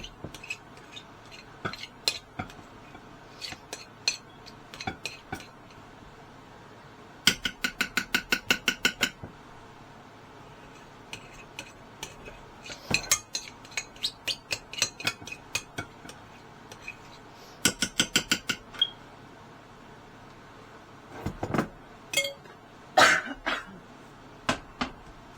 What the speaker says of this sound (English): I'm going to use my peanut butter spoon, I think, for now, to scrape the rest of this out of there.